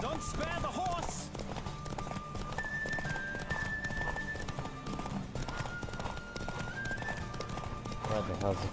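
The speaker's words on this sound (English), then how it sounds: "Don't spare the horse!" A horse gallops in The Witcher 3 video game, its hooves clip-clopping in a fast steady rhythm during a race, with a whinny at the start and spoken voices over a music bed.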